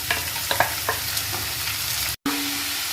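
Sliced onions sauté in a pan with chillies and curry leaves, a close, steady hiss broken by quick spatula scrapes in the first half, then a brief dropout before the frying resumes.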